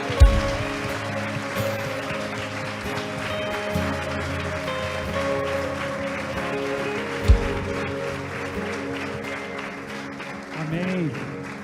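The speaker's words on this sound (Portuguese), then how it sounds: "Aplauda o Senhor mais uma vez aí." Church congregation applauding under sustained music and a room full of sound, the clapping blending into a broad, continuous wash with a couple of sharp louder knocks along the way.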